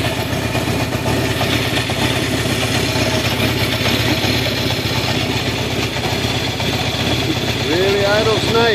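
A 1969 Honda CB750 Sandcast motorcycle engine idling steadily with a smooth, even mechanical hum and light clatter, close and continuous throughout, with carburetors freshly set up.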